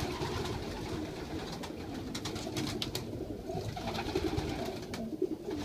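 Soft cooing and calling from a family of pigeon-like birds, including young ones, repeats steadily over a constant outdoor background, moderately close but fairly quiet.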